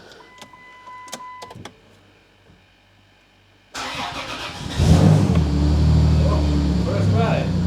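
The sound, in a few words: Chrysler Grand Voyager V6 engine starting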